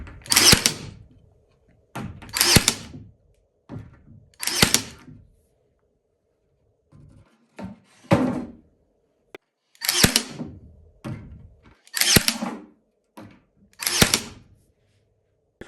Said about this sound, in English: So let's go try it out, see how the nail gun performs.